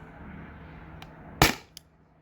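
A single sharp air gun shot cracks loudly and close, followed a moment later by a faint click, with a Salt Supply S2 pierce cap fitted and the shot fired from a loaded magazine. The room is otherwise quiet.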